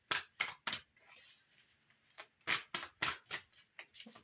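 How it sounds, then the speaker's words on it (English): A deck of oracle cards being shuffled by hand, sharp riffling bursts in quick groups of three, close and fairly quiet, separated by softer card handling sounds. "Let's be quick about the shuffle"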